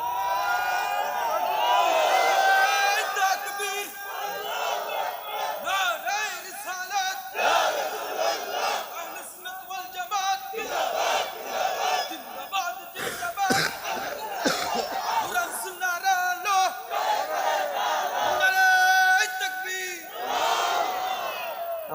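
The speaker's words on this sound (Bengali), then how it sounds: "এবার তাকবীর জোরে।" Large crowd at an Islamic waz gathering shouting a loud, sustained takbir chant in unison, several long swelling calls with brief gaps between them.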